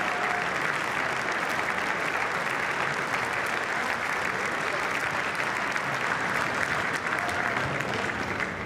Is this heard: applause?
yes